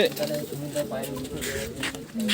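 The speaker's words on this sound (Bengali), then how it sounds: "এই খাঁচার মধ্যে সব ধারি পায়রাগুলো আছে" Caged pigeons of a fancy breed coo in a low, repeated murmur that runs steadily through the moment, with a voice talking close by over the birds.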